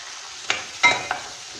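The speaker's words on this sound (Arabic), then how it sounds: "نخلي الكل يتقلى مليح كما رانا نشوفوا" Kebab tagine ingredients, including chicken, frying in oil in a pan, heard as a faint sizzle with a few quick stirring scrapes.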